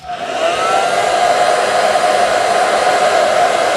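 An airbrush hair dryer switches on and blows with a steady, loud whooshing hum and a high whine, running continuously up close, drying paint on a Land Raider model.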